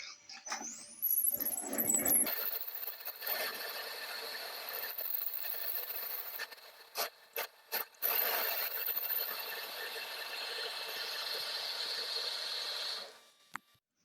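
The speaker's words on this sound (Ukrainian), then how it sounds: "зараз сверлим отвір під болт" Steady high-pitched machine whine of a drill boring a bolt hole in a flywheel being machined for a slotting head flange, running continuously for about eleven seconds with a few brief interruptions before stopping.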